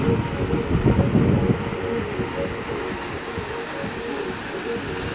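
A steady rumbling roar of a train rolling along rails in Skagway, Alaska, with heavy low-end noise that eases slightly after the first moments and continues unbroken.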